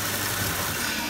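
Household water pump running steadily on its own while mains water is shut off, a continuous broadband hum and whir with no breaks.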